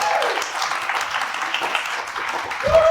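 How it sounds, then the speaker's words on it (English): A big round of audience applause at a live magic show as a volunteer is called up on stage: continuous, fairly loud clapping from the crowd, with a brief voice rising near the end. "Sean, come on up here to a big round of applause."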